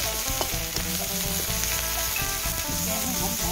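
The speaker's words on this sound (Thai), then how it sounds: "แกก็จะผัดพริกแกงก่อนนะคะเครื่องแกงก่อนนะคะผัดพริกแกงเป็นพื้นฐาน ให้มีความหอมก่อนนะคะ" Thai curry paste is stir-fried in a pan as the base for a spicy catfish curry, with water instead of coconut milk. It makes a steady, close sizzle with scraping stirs throughout, and tonal sounds run underneath.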